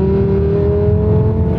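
A tuned five-cylinder VW Golf 7 R with SAR Turbotechnik work holds a loud, steady engine drone under hard acceleration from 4000 rpm, heard from close by inside the car.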